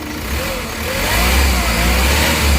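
A Hyundai H100 van engine that lacks pulling power is revved, giving a loud, close, rough mid-pitched roar that builds and holds high, with a broad rumbling drone throughout.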